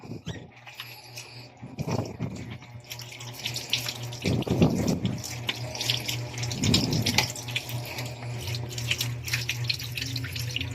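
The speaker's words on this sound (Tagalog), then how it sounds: "Hugasan natin tong pandan" Pandan leaves are rinsed under a running kitchen tap, soft steady water flow with several louder splashing bursts as the leaves are moved under the stream, fairly quiet and close.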